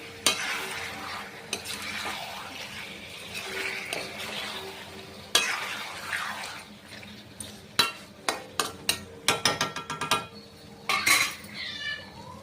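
Chicken curry ingredients frying in a pan with coarse salt, a steady broadband sizzle with metal utensil scrapes and stirring clatter that grows busier and louder toward the end, no voices.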